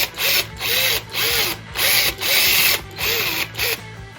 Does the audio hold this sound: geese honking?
no